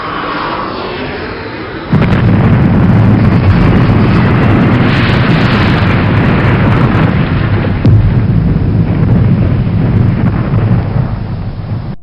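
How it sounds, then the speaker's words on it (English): The center wing fuel tank of TWA Flight 800 explodes: a quieter low rumble gives way to a sudden heavy boom. A loud, sustained roaring rumble follows, with a second jolt partway through and no voices. "The center wing fuel tank exploded,"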